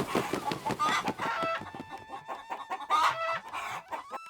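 Hens cluck in a busy, overlapping flock, close by, with a rooster's crow rising partway through.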